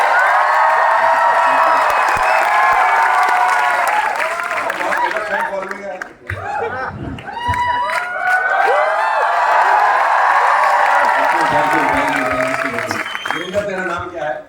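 A large crowd at a gathering claps and cheers loudly, with whoops and shouting voices over sustained applause that dips briefly in the middle and then surges again.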